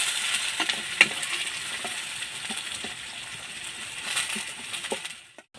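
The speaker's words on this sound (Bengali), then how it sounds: "দুই 3 মিনিটের মতন আমি পেঁয়াজটা একটু নেড়ে চেড়ে ভাজা করে নিয়েছি।" Chopped onions sizzle softly in a pan while being stirred, with scattered scraping taps over a low, steady frying hiss that fades out at the end.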